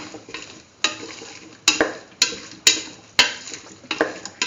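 Cauliflower and chayote stew with tomato chili sauce is stirred in a pan, making a series of sharp spoon scrapes and clinks at an uneven rhythm over a soft sizzle, close and fairly loud.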